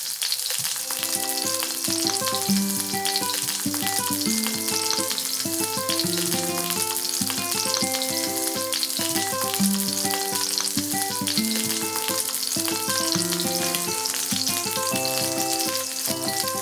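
Shrimp and bacon cakes fry in hot oil with a steady, even sizzle and crackle, partly masked by louder background music playing throughout.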